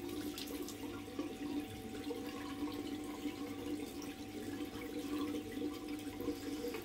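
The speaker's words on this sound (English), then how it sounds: "Let's have a rinse. Cold water." Cold water runs steadily from a tap into a sink during a rinse, a continuous moderate rushing and splashing with no talk over it.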